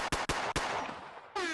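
Gunshot sound-effect drop played on a podcast: three sharp, loud bangs in quick uneven succession with a decaying tail, then a bright horn-like blast at the end, with no talk over it.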